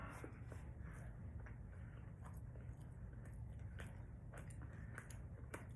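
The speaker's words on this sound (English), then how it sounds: "I'm still chewing this thing" Close, quiet chewing of steak, with soft wet squishes and small crunchy bites repeating irregularly over a low steady background hum.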